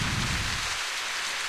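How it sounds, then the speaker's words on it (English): Steady rain hisses down in the video game The Path, a dense even wash of falling drops outside a grandmother's house, with a low rumble fading early and no talk. "in the rain in front of Grandmother's house"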